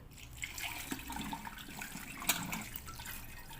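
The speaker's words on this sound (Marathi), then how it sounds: "आता त्याला स्वच्छ धुवून घेऊया" Radish pods are rinsed in water, giving soft splashing, trickling and sloshing close by at moderate level, with one brief louder splash and no talking.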